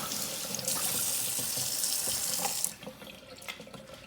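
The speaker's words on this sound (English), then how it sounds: "all you gotta do is run it in hot water for a little bit, then rinse it" Hot tap water runs steadily over an air-filled soda can in a sink, a loud constant splash that cuts off near the end, leaving faint drips and handling noise.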